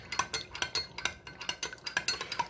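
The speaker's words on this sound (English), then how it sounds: "we have to stir it again to sort of wake up that cornstarch again." Steady rhythmic stirring of a cornstarch sauce for Chinese-style green beans with chicken, a utensil clinking and scraping against the bowl about twice a second, close and moderately loud with no talk.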